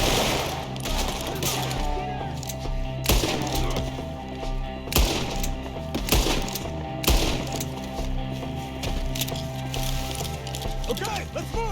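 Gunfire rings out in the Red Dead Redemption 2 video game, repeated sharp shots in an irregular exchange over a dense game soundscape of hooves and music, with voices shouting through it.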